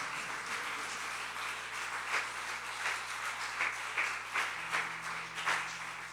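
A church congregation applauds in a sustained, moderately distant roll of many hands, with rhythmic surges in the clapping and a steady low hum beneath.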